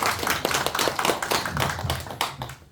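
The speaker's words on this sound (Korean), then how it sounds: "큰 박수로 맞이해 주세요" Audience clapping at a Korean book concert welcoming a poetry reciter, a close, fairly loud burst of individual hand claps that fades out at the end.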